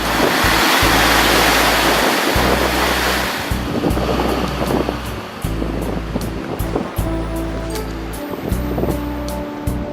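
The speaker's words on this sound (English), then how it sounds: "found some more little blowholes." Ocean waves surge and roar through small coastal blowholes at Steep Point, Western Australia, a loud continuous wash with rhythmic low thumps as water pushes through the rock, heavy wind buffeting the microphone throughout.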